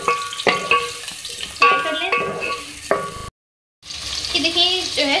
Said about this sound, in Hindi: सबसे पहले मैं ऑयल में 2 मीडियम साइज़ के प्याज ऐड करूँगी और इसको हमें नरम कर लेना है।